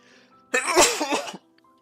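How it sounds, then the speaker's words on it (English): A single loud, close sneeze with a sharp burst, standing alone against faint background hum. "Sneezing on stream."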